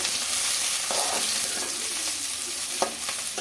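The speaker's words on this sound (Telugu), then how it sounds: "ఇప్పుడైతే కడాయి పెట్టి ఆయిల్ అయితే వేసుకున్నానండి ఆనియన్స్ అయితే ఫ్రై చేసుకున్నాను" Two large onions fry in oil in a kadai, giving a continuous close sizzle broken by a few spoon scrapes and clicks as they are stirred.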